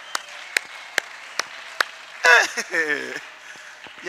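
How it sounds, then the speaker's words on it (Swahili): Five slow, evenly spaced hand claps ring out at a church gathering, followed by a voice speaking and a couple more faint claps. "Hebu tuwapigie makofi wanawake."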